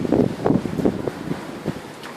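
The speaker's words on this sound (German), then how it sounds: "Das ist ja richtig windig." Strong wind gusts blowing outdoors in stormy weather, a steady, loud roar of buffeting air against the microphone with rustling, no voices.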